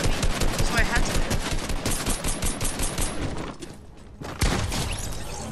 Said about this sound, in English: This kid's shooting at me